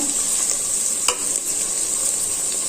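Onions frying in ghee with cinnamon, cardamom and cloves for chicken biryani give a steady, close sizzling hiss, with one brief stirring clatter partway through.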